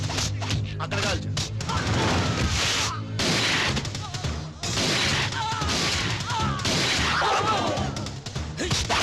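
Gunfire and crashes in a Telugu film's climax action scene, dense bursts of shots and impacts layered with music and effects, loud and close, briefly dropping out, with a voice speaking in places.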